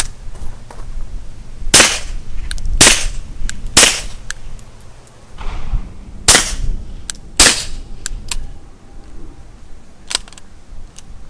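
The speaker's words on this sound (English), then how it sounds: "We're now running just 4 baffles." Suppressed gunshots from a Q Erector suppressor with 4 baffles at an outdoor range, six or so sharp cracks spaced a second or two apart with brief tails between.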